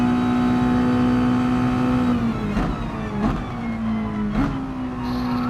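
A Mazda touring race car in a racing video game at Interlagos holds a steady engine drone, then braking and downshifts bring brief blips and pitch drops into the corner, loud and close with no talking.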